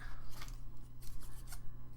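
Large scissors snipping repeatedly, crisp close-up cuts in an irregular rhythm over a low steady hum.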